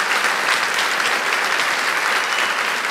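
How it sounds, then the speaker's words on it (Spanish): A church congregation applauds loudly and continuously during a sermon, a thick even wash of many hands clapping with no voices on top. "Denle un aplauso fuerte si es para el Señor."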